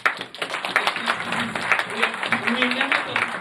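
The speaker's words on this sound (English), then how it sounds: "Can we clap our hands for ourselves?" Audience clapping at a women's memorial lecture, a dense patter of hands that sounds close and moderately loud, mixed with voices and crowd murmur.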